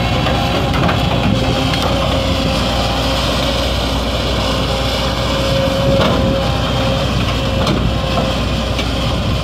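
The engine of a Volvo L150E wheel loader, a 250 construction machine, runs quietly in a steady, unbroken idle drone that is close and constant throughout.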